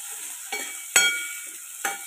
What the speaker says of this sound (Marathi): कांदा टोमॅटो छान मस्त तळलेले